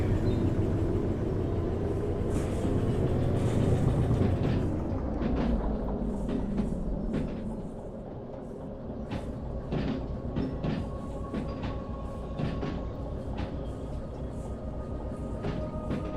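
Train locomotive rolling along track in the Derail Valley game, a loud steady rumble that eases after a few seconds, then continues with repeated clicking rail-joint clatter throughout.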